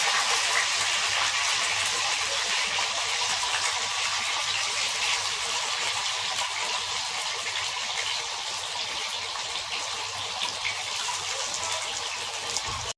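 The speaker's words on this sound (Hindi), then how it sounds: "पानी जा रहा है उसमें।" Water gushes steadily into a pot for boiling sattu litti in a home kitchen, a loud, close, unbroken stream that keeps the same rushing level throughout with no talk.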